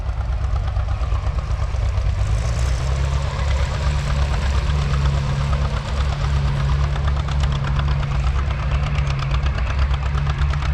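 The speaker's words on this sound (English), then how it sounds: "here comes that big John Deere" A big John Deere tractor engine at a plow day, a steady low diesel rumble with knocking and idling texture that holds loud and constant throughout, with no talk over it.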